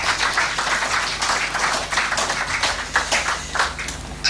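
An audience at a live event claps in another round of applause, a fairly close, continuous patter of hands with slight swells, under a low background hum for about four seconds.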